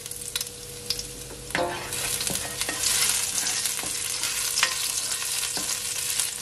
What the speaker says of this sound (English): So now I'm gonna add my garlic. Just gonna allow it to saute for at least 20 seconds.